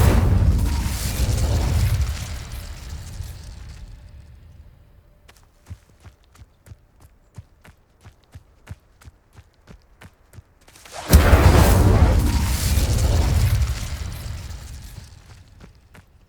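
Fire spell blasts cast in Hogwarts Legacy: a loud roaring whoosh of flame opens, fades into a run of sharp clicks and taps, then a second big fiery burst swells and slowly dies away, with no talk.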